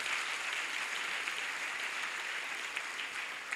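A church congregation applauds for God, a dense, steady wash of many hands clapping throughout at moderate loudness.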